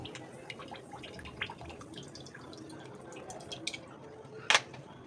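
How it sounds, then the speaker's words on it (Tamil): Oil is poured into a heated kadai for cooking sweet chicken, giving a faint, quiet trickle with scattered small drips and one brief sharper splash near the end. "நல்லா நமக்கு தேவையான அளவு ஆயிலை ஊற்றிக்கலாம்."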